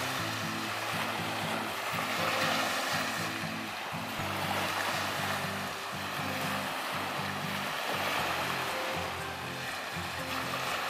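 Surf washing onto a sandy island beach at sunset, where rays ride the waves into the shallows; a steady wash of water runs throughout, under a low, repeating throbbing hum.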